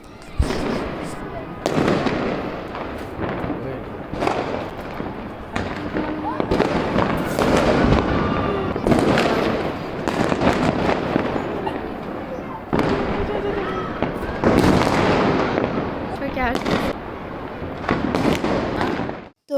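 Fireworks burst over apartment rooftops on New Year's night, a dense, ongoing barrage of sharp cracks and booming pops, some near and some distant, with voices talking throughout.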